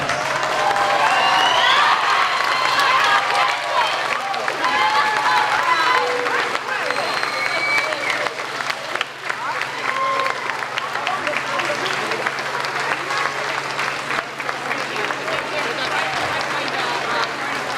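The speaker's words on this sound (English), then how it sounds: "give you a big round of applause" Audience applause and crowd noise fill a warm indoor hall as families clap for graduates at a school moving-on ceremony, a dense, steady wash of clapping with scattered voices and a low hum throughout.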